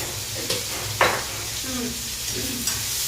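Sizzling of fish frying in a pan with a few soft clinks, and a voice talking briefly over it.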